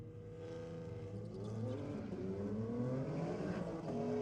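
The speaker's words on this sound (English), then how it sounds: "the Golf taking on the BMW this time around" VW Golf and BMW engines roar side by side at a drag racing meet, a loud sustained revving that climbs steadily in pitch as both cars accelerate hard down the strip, with no talk.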